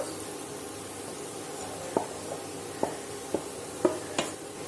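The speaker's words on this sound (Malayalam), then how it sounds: "ഇതെല്ലാം കൂടിയിട്ട് നന്നായിട്ടൊന്ന് യോജിപ്പിച്ച് കൊടുക്കുക" Soft stirring scrapes of a spoon in a pan as crumbled idli is mixed with sautéed onions, a handful of light taps and clacks over a faint low sizzle, quiet and close.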